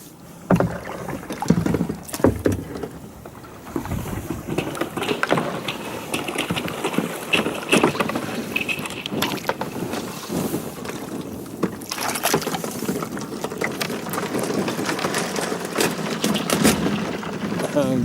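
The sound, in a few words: paddling a boat through icy water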